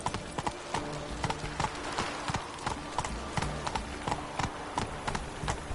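Horse galloping in The Witcher 3: Hearts of Stone, a fast, regular clip-clop of hooves close up, with a quiet bed of ambient sound beneath.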